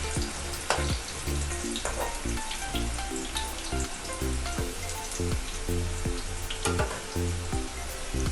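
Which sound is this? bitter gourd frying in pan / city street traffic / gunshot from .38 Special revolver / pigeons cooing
bitter gourd frying in pan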